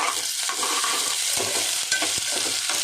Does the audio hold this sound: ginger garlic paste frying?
yes